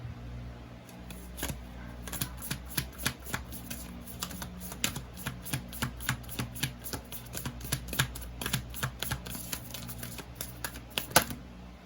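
Tarot cards are shuffled and handled up close in a quiet room, giving a quick series of crisp snaps and riffling flicks spread over several seconds, with no talk.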